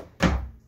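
A ball-bearing drawer slides out of a cabinet in a 2021 Venture SportTrek 251FK RV, giving one soft, close thunk followed by a brief rumbling glide that fades out.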